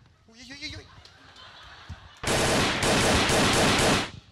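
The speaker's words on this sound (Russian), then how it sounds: "А нет, там стреляют." Gunfire on a city street: after a few faint sounds, a loud, sustained burst of rapid automatic shots starts and rattles on for about two seconds before stopping abruptly.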